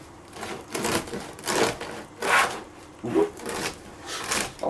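A knife saws through a crusty sourdough loaf of semi-wholemeal T110 and T65 flour, giving repeated rasping crunch strokes in a steady rhythm, close and moderately loud, with no talking.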